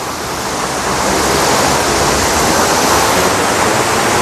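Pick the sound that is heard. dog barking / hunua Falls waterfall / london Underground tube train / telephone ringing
hunua Falls waterfall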